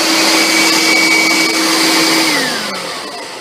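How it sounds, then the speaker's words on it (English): A shop vac rebuilt as a blower fan roars loudly and steadily on its own, a high motor whine holding pitch before dropping slightly near the end as the airflow shifts. "Have my blower right here, and I'm going to switch it on and see how well it works."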